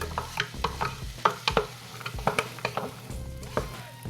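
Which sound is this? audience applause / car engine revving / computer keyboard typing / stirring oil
stirring oil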